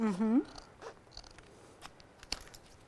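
Scissors trim paper for a handmade card, giving a few short, quick snips after a brief bit of speech, close and fairly quiet.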